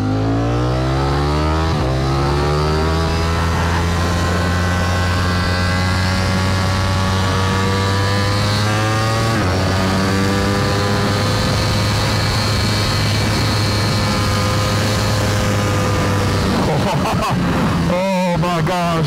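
A loud Ducati Streetfighter V4 engine with a black Termignoni exhaust idles and revs steadily with a throaty sound, its pitch rising and falling, with a few sharp bursts near the end.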